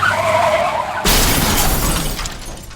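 A car rear-end crash effect, tire skid squealing briefly before a sudden loud impact with glass shattering and debris scattering, the burst fading over about two seconds.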